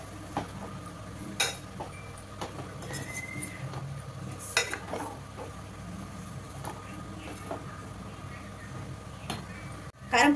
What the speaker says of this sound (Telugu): మసాలాలు వేసి ఇట్లా మంచిగా కలుపుకుంటాం.